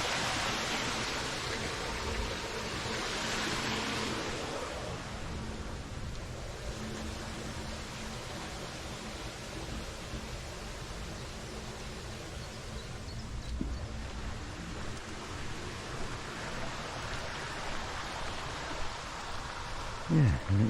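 Water rushing through a sluice on a fen walk along the Angles Way in Suffolk, a steady broadband wash that stays continuous and fairly close for the whole stretch, with faint footsteps and rustle beneath it.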